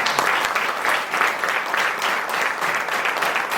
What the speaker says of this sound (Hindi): एक बार उन लीडरों के लिए जिन्होंने बहुत अच्छा आपको सिखाया, एक बार जोरदार तालियां